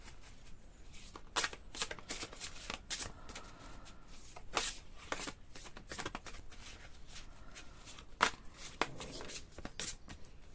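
Oracle or tarot cards shuffled by hand for a cartomancy reading, giving a soft, steady run of quiet papery flicks and slaps spread evenly through a hushed room with no talking.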